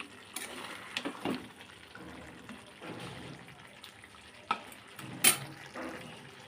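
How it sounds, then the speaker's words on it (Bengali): Water is poured into a pan of simmering apple chicken on the stove, giving quiet, intermittent splashing and trickling bursts with a faint sizzle between them. "এখন আমি জল দিয়ে দেবো এই যে দেখুন"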